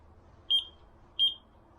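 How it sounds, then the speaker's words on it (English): An aftermarket parking sensor beeper fitted in a Fiat Ducato, Peugeot Boxer or Citroen Relay van gives two clear, high-pitched beeps spaced well apart over a quiet background. "About 4 foot away it starts beeping."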